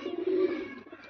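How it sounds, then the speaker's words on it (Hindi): A pigeon on a rooftop gives a low, throaty coo close by, one soft sustained call with no talk. "आज भाई तीन कबूतर आए हैं छत पे"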